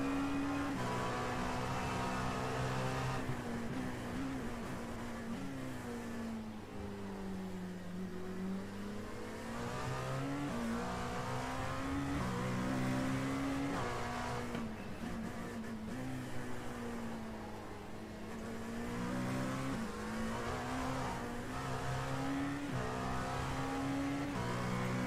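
Race car engines rev continuously in a racing video game, a loud sustained whine with rising and falling pitch as the cars accelerate and shift, with no talking.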